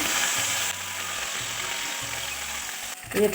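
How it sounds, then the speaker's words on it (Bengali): Frying turmeric-coated fish pieces are turned over in a pan of hot oil, a steady sizzle ending in a brief scraping clatter as the spatula works the pan. "এক পাশ ভাজা হয়ে গেছে, এবার উল্টে দেবো।"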